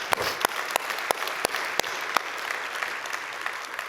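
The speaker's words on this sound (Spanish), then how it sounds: "dale un fuerte aplauso a él se lo merece" A church audience claps loudly for someone at a sermon, a crowd's applause with a few sharp, near claps standing out at regular intervals above the general patter.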